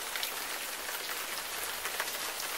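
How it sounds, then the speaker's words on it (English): Heavy rain pouring down outdoors, a dense, constant hiss of drops on surfaces with scattered louder spatters, steady throughout and with no talking. "It is pouring outside. Pouring rain."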